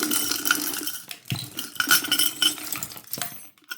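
Sterling silver jewelry is pulled from a Goodwill jewelry jar, giving a close, busy jumble of metallic clinks and jangles as pieces rub and knock together.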